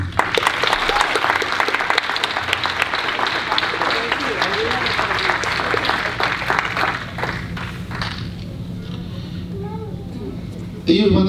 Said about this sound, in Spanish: ¿Por qué no le dan un aplauso?